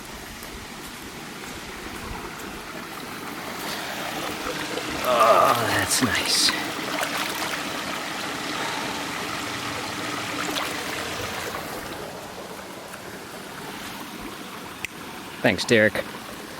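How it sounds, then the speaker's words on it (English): Water rushes steadily in a stream beside a hiking trail, a constant mid-level wash heard from nearby while people talk briefly over it. "I hear some rushing water."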